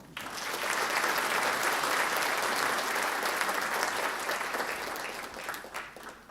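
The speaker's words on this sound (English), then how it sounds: "Please give a big applause to start this forum." An audience applauds to open the Indonesia-Singapore Business Forum in Singapore, a broad, sustained wash of clapping that swells in quickly, holds steady for several seconds, then thins out toward the end.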